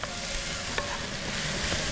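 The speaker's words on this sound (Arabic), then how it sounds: "وهنقلب كده تقليبه حلوه." Green beans and carrots are stirred in a hot pan under a steady close sizzle, with a few short scrapes of the spoon and no voices.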